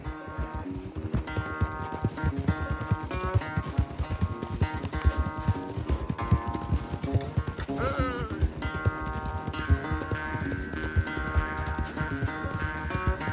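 Hooves of a horse pound in a fast, rhythmic gallop during a race in Red Dead Redemption 2, loud and close, mixed with dense game music and a brief whinny-like tone.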